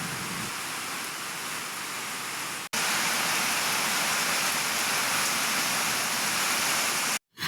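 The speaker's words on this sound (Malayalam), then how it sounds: "ഇതാ പുറത്ത് നല്ല ഗംഭീരം മഴ പെയ്തുകൊണ്ടിരിക്കുകയാണ്" Heavy rain pours steadily in a dense, loud hiss with no let-up, briefly cut off twice.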